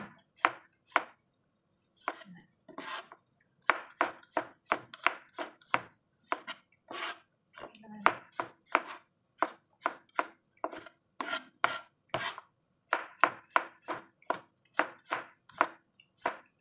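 A knife slices garlic thinly on a cutting board, sharp crisp chops in quick irregular bursts with short pauses between runs, close and clear, no talking.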